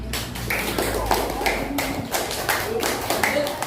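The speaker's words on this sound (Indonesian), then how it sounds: "Sebelum duduk, kita apresiasi dengan tepuk tangan anak-anak" Schoolchildren in a classroom clap together to applaud a group that has just presented, a dense, steady patter of many small hands lasting throughout with a voice faintly underneath.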